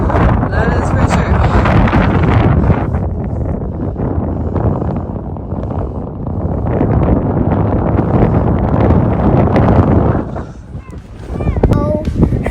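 Strong wind on a snowy sledding hill in Carson City, Nevada, during a wind warning, roaring and buffeting loudly against the microphone in heavy gusts, with brief voices near the end.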